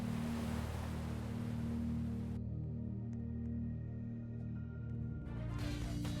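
Steady ocean surf from the video game Poppy Playtime rushes and washes continuously over a low rumbling hum, with a few faint ticks as the wash briefly thins out.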